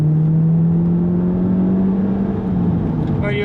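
An Audi S3 8V fitted with a VAG Sport turbo elbow and inlet pipe drones steadily from inside the cabin, its engine pitch rising slightly under a light load, with people talking faintly beneath the hum.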